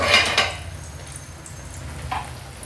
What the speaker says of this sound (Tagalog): Iprito lang natin siya hanggang siya ay mag-golden brown.